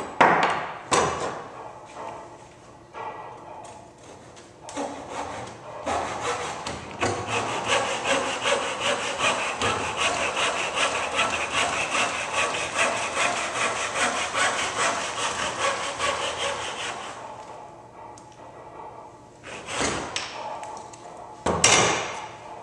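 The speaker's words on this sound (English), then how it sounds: "now we've got one last cut to go vertically down" A hand saw cuts vertically down through wood held on a bench hook in a vise to finish a half lap joint. Steady, rhythmic rasping strokes run close and clear after a few brief knocks, then stop.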